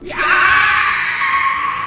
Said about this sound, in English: The creature screams in pain.